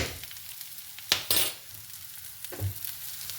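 Ghee hits a pan while chicken tikka masala is frying, giving soft sizzling and stirring scrapes with a couple of brighter hissing bursts, close and fairly quiet.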